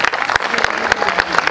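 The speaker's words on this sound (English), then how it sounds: "Could we please have a big round of applause for them?" A school assembly audience claps for a student performance, a brisk, moderately loud round of applause with a few sharp individual claps standing out.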